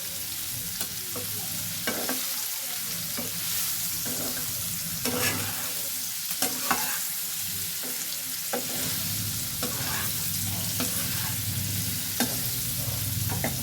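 Paneer pieces fry in a pan with a constant, close sizzle, broken now and then by sharp clicks and scrapes of a utensil turning them.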